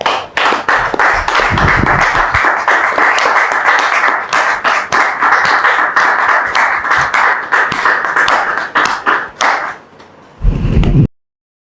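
A television talk-show studio audience claps steadily to welcome a woman guest onto the set, dense sustained applause running several seconds before tapering, then a brief renewed burst at the end.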